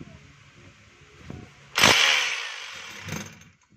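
A DeWalt D25144 rotary hammer is run in hammer mode, starting with a sudden loud whine and rattle that holds for over a second and then fades, with a second short burst after it and quiet mechanical noise before.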